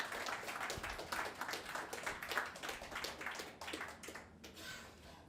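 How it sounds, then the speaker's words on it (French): A small audience applauds at a French recovery-plan event: quiet, sparse clapping with distinct individual hand claps, fairly close and steady, tapering off near the end. "Parfait, on peut vous applaudir."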